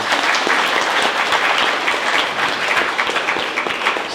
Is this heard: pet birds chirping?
no